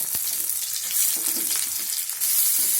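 Chopped tomatoes fry in hot oil in a pan with onion and curry leaves for a capsicum egg gravy, a steady bright sizzle with light stirring scrapes, close and continuous without talk.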